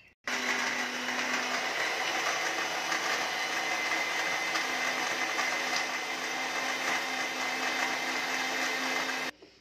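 Kitchen blender whirring steadily as it mixes raw mango juice with ice cubes, loud and continuous for several seconds before cutting off abruptly at the end.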